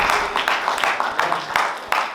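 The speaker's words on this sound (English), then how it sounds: "Could I have all of you clap, please?" A small open-mic comedy crowd claps in quick bursts, with a few sharp louder claps standing out, briefly and fairly close.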